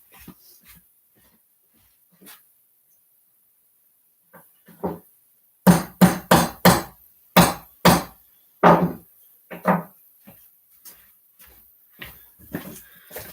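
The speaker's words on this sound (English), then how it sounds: "It's kind of hard to just gently adjust this with a hammer." A hammer gently taps a Lego train carriage being fitted with ball bearings: a quick burst of sharp, close knocks in a rapid run, then scattered lighter taps, with no talking.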